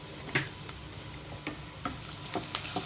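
Cumin, mustard seeds, turmeric and ginger garlic paste are fried in a pan for a soya chunk masala curry, giving a soft steady sizzle broken by light, regular spoon taps and scrapes, close and low in level, with no talk.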